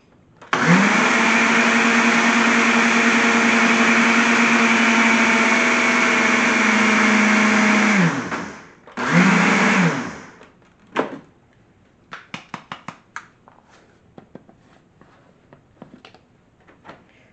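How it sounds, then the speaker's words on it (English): A blender blending almond milk whirs loudly and steadily for about eight seconds, stops, then runs again in a short burst, followed by scattered clinks and knocks. "I'm going to put it back in the blender."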